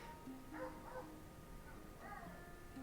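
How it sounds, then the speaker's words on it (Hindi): A cartoon dog lets out a few short, faint barks and yips against a low background hum. "ये तो शेर जैसा भौंक रहा है"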